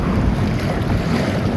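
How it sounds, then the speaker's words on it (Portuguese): Strong wind while sailing a small boat fast through waves, a loud continuous rushing roar with wind buffeting the microphone and water noise underneath, no voices. "eu percebi que o vento estava muito forte"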